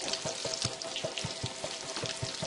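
Trout fillets frying in a hot pan with garlic browning nearby, a close steady sizzle broken by frequent sharp pops and spits.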